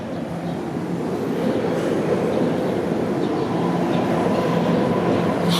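A subway train roars past unseen in a Toronto park ravine, a dense, steady rumble of wheels on track that swells slightly and holds, heard from nearby.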